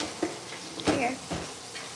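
Braised beef being stirred in a hot pot, with a few short scraping stir strokes over a steady soft sizzle, close and fairly quiet.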